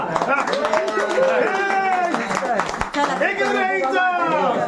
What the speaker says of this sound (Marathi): सर्व टाळ्या वाजवा.